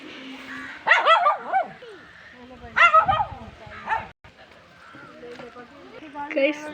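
A dog barks in several loud, yelping bursts spread through the clip, with quieter whimpering sounds in the gaps between barks.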